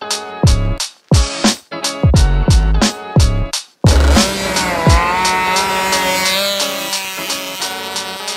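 A mini motorbike with a small centrifugal clutch runs on a track. It opens with a few sharp, loud blips of the engine, then holds a steady, high-pitched whine at full throttle.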